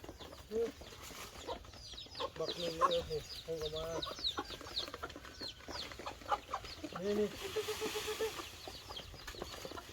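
Chickens cluck and squawk close by while being fed, irregular bursts of clucking scattered throughout, with a person talking at moments in the background.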